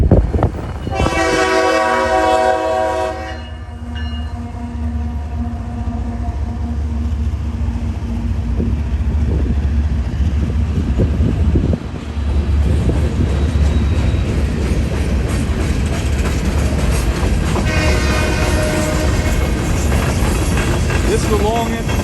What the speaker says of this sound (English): This is a long empty coal train.